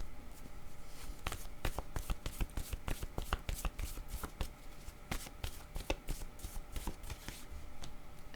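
Playing cards are shuffled close by in quick riffling bursts and crisp flicks, irregular but continuous, quiet and with no talking.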